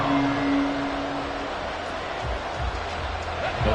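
A stadium crowd at a football game in the Madden video game keeps up a steady, dense roar throughout, loud and broad, with a commentator's voice underneath.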